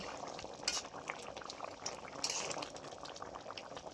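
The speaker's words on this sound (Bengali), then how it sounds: "দিয়ে বেশ কিছুক্ষণ আরও ফুটিয়ে নেব" A pot of bata fish curry with drumstick and ridge gourd, fried fish pieces just added, simmers and bubbles steadily, with a dense, continuous seething and a few brighter clinks partway through.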